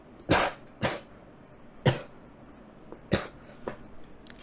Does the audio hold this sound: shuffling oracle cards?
no